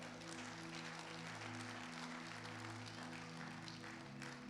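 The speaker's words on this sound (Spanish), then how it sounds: "Démosle un aplauso al Señor" Congregational applause during a Spanish-language church service, a soft, steady patter of many hands clapping at a low level over sustained keyboard chords that hold beneath it throughout.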